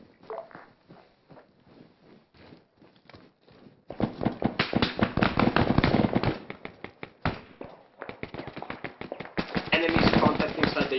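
Arma 3 gunfire in a military operation: rapid bursts of rifle and machine-gun shots crackle at varying distances, building into heavy sustained volleys, with radio-style voices talking over the firing.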